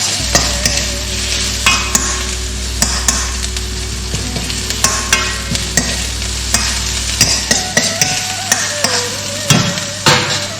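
Carrot stir-fried with Mongolian beef in a hot pan: loud continuous sizzling with frequent sharp metallic clanks and scrapes of stirring over a low hum that cuts out partway through.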